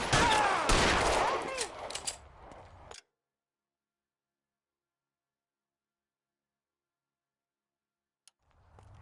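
Rapid burst of gunfire from a police shootout in the crime game L.A. Noire, loud and dense for about three seconds, then silence with a faint thump near the end.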